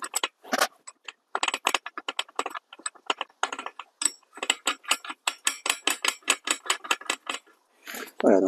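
A ratchet or wrench clicks rapidly in short bursts while the four screws are refitted on an adjustable wheel of a Solis 26 tractor, close-up and crisp, with brief pauses between runs of clicks.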